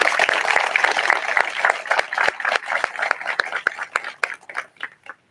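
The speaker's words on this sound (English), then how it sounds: "Round of applause, please." Dense, lively applause from a crowd at a fire apparatus and ladder truck ribbon cutting ceremony, many hands clapping at once, gradually thinning out to a few scattered claps at the end.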